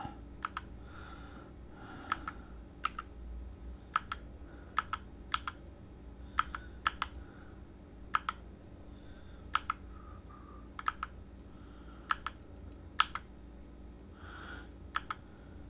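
Computer keyboard keystrokes while photos are edited in Lightroom: sharp, fairly quiet taps, sometimes single and sometimes in quick pairs, spaced irregularly over a low steady room hum with no talk.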